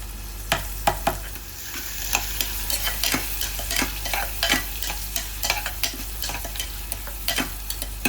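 Onion paste fries and is stirred in a pan, giving a steady sizzle broken by sharp, frequent scraping and clacking of the spoon against the metal, close and fairly loud.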